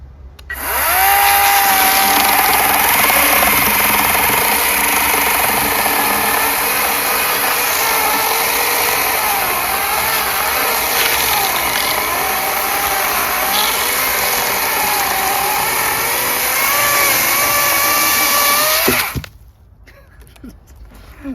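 A battery-powered mini handheld chainsaw cuts wood, its high, buzzing whine running steadily for about nineteen seconds, wavering in pitch under load, before cutting off abruptly.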